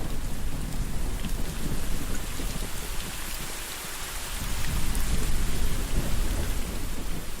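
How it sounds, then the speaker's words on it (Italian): Steady, heavy rain pours down throughout, with a deep rumble of thunder rolling underneath and swelling louder toward the end. No voices. "Oh no, piove troppo!"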